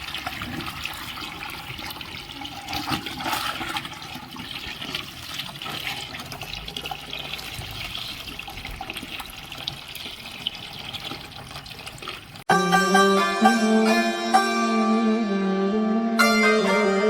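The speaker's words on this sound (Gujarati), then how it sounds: "હા નળ ચાલુ કરી દઉં હું" Water runs steadily from a household tap for about twelve seconds, a constant splashing flow, before music abruptly takes over.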